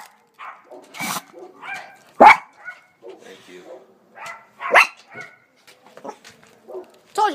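A dog barks and yips in short bursts, several sharp calls close by, with gaps between them.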